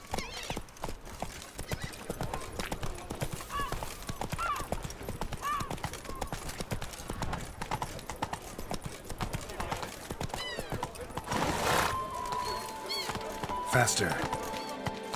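Roach the horse gallops in The Witcher video game, hooves clip-clopping in a fast steady rhythm with occasional neighs and whinnies, all under music and game noise while a voice speaks briefly.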